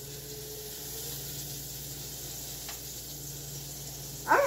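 Hamburger meat frying in a pan gives a steady, close sizzle that holds throughout, ending in a brief louder burst.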